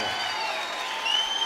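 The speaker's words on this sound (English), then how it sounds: "Please give a big round of applause." Audience applause for the winner of a boxing bout, a brief, even wash of clapping heard at moderate distance.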